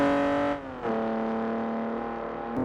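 A Volkswagen Jetta engine revs in a close, steady drone, its pitch dipping briefly before settling and rising again near the end.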